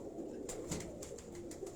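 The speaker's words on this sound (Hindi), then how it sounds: "ये उनका घर का टैडी कबूतर है।" A pet teddy pigeon at home gives soft, low cooing, faint and close against a quiet background hum.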